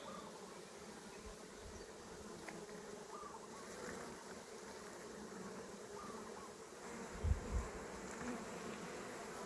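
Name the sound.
honeybees buzzing around an opened beehive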